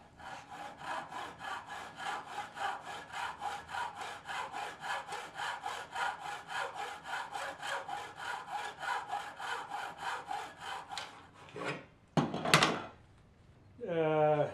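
A 1/8 inch wooden dowel is cut by hand with a fine saw to make knobs for a miniature hutch, giving about twenty steady, even back-and-forth strokes, close and clear, then a few louder knocks and handling sounds at the end.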